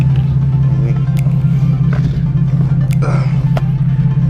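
A Nissan 370Z engine idles with a steady, loud low rumble close by, constant throughout with faint background sounds on top.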